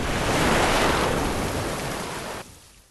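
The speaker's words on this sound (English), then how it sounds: "Wait, that sounds like water rumbling." A steady, dense rush of water fills a summer river adventure video game, a broad roaring wash like rapids or a waterfall that holds strong, then thins out and fades near the end, with no speech.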